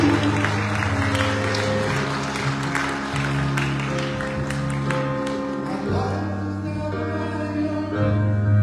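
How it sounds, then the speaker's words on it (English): Worshippers at a Sunday church service clap their hands along with sustained keyboard or organ chords, the crisp claps scattered over the music at a moderate level. "Come on, clap your hands."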